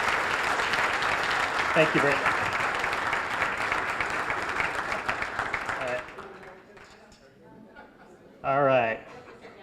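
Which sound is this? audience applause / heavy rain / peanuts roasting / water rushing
audience applause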